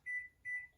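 Two steady electronic beeps from a microwave timer keypad, each a clean sustained tone about a fifth of a second long with a short gap between, close and fairly quiet, with a third starting at the end.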